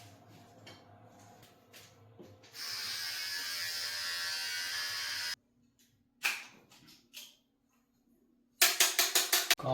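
An electric beard trimmer buzzes loudly and steadily for about three seconds, with clicks and handling sounds before and after, ending in a quick series of sharp rattling bursts.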